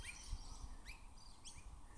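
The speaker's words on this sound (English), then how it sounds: "Got little green honeyeater birds and these little grey brown, what I'm told are minor birds." Small green honeyeaters and mynas calling among trees, several short high chirps and upward-sweeping tweets in scattered bursts, fairly faint and distant over low background rumble.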